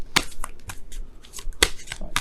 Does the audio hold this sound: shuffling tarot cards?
yes